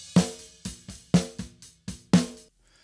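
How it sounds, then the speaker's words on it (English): Six dry snare drum hits, close and punchy, each decaying quickly into silence in an even, slightly uneven rhythm. "Let's listen to the snare, just a couple of hits dry first."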